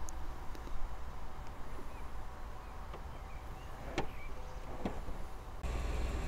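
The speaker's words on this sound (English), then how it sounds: "And just show you the boot going down," The electric boot of a Lexus RX 300 3.0 SE lowers with a faint, steady motor hum, then latches shut with a firm thud near the end.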